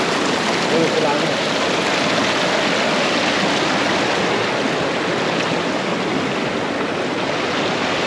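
The Pulangi river flows loud and close as a continuous broadband rush of moving water. The wash stays dense and steady, like a fast stream or small cascade, with no pauses throughout.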